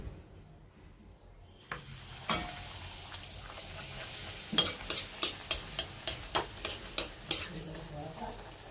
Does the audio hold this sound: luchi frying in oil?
yes